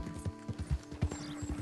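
Horse hooves clip-clop in a steady riding rhythm in the video game Red Dead Redemption 2, with distinct close thuds repeating throughout, and a faint mechanical hum underneath.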